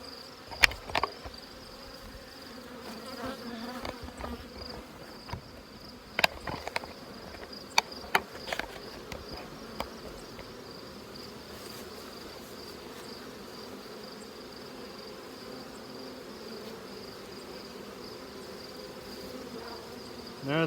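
Honey bees humming at the front of a hive in the evening, a faint, steady drone with a few sharp clicks and bumps, no talking.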